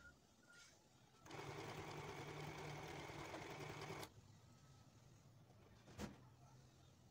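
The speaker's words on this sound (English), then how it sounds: "I'm just going to sew by the side with half an inch." Sewing machine sewing a half-inch side seam on a maxi ruffle dress, a soft steady whirring run of about three seconds, quiet and slightly distant, with a brief click near the end.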